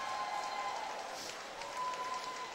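St. X fans cheering at a state swimming finals 100 fly race, a steady, fairly faint crowd roar echoing through an indoor pool hall.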